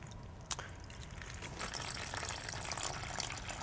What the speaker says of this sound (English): To start with, I'll add some water.